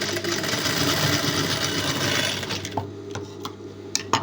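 A sewing machine stitching a blouse runs at a steady, even whir for under three seconds, then stops, leaving a few scattered clicks and light handling taps close by.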